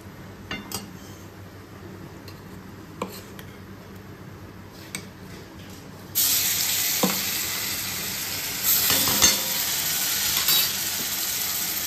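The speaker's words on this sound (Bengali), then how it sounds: "একটু জিরে ফোড়নটা দিলাম, একটু ভাজা ভাজা হবে" Cumin seeds and potatoes hit hot oil in a pan: faint ticks and clinks for a few seconds, then a loud, steady sizzling hiss bursts in close up and keeps going, with no talking.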